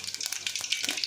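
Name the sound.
mustard seeds sizzling in hot oil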